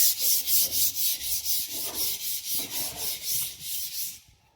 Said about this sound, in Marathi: पुट्टी भिंतीवरती घासून घ्यायची आहे.